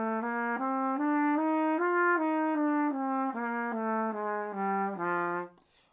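A trumpet plays a bebop scale starting on the fifth, a run of about a dozen clear sustained notes with a bright tone, close and alone, ending abruptly.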